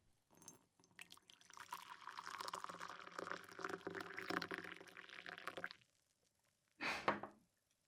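Café au lait is poured into a cup in a quiet room as a continuous soft liquid stream that runs for several seconds and then stops. A brief separate rustle follows.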